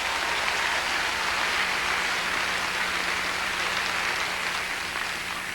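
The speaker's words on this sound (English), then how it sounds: "So let's give them all a round of applause just one more time." Audience applause at a 1999 Miss Oklahoma beauty pageant, a dense, even roar of many hands clapping from a large crowd, sustained at a steady level with a faint hum beneath.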